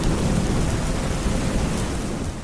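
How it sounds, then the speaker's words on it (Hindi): Heavy rain pours down in a dense, unbroken roar beneath dark storm clouds, with low thunder rumbling through the wash of water, loud and steady throughout. "अचानक काले काले बादल आसमान में घिर आए और छाजो पानी बरसने"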